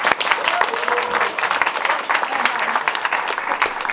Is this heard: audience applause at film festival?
yes